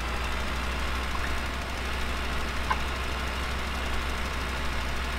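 A small tractor engine runs in Farming Simulator 2017, a steady low idling drone with faint knocking, constant and even throughout with no talk over it.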